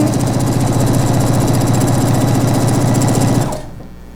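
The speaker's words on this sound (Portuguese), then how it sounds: "Você vai só ajeitando aqui, costurando bem rente." A sewing machine runs steadily while stitching napkins, a loud, continuous mechanical whirring with rapid rhythmic clatter that stops abruptly near the end, leaving quiet.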